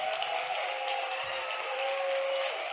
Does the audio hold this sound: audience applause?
yes